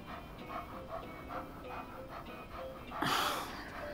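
A puppy panting in Life is Strange 2, with quick soft breathy pants repeating in a steady rhythm, faint and close, followed by a brief louder rushing burst near the end.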